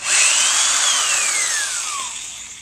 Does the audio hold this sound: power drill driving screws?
yes